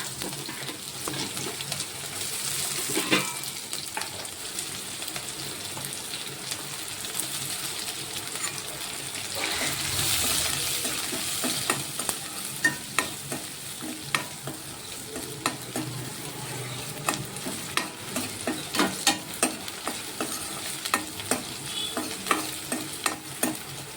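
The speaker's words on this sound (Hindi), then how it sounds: "जीरा डालने के बाद मैंने डाल दिया इसमें प्याज," Onion with cumin and mustard seeds fries in a pan, giving a steady soft sizzle with frequent clicks and spatula scrapes, moderately quiet and without talk.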